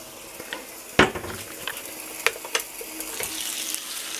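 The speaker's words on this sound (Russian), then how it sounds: "И мясо жарится." Meat frying in a pan, with a steady soft sizzle broken by a few sharp clinks and knocks of cookware, close and fairly quiet, with no voices.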